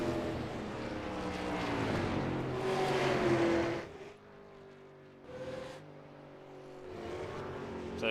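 A super late model race car engine in a racing video game roars loudly at high revs, rising in pitch and then dropping off as it lifts and shifts around a speedway oval, with no talking.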